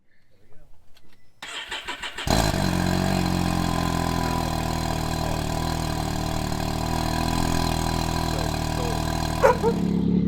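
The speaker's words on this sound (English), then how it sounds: "We're just gonna do a cold start." A Can-Am Maverick X3 XRS side-by-side engine cold-starts after a few faint clicks, catching with a loud roar and settling into a steady, close idle that runs throughout.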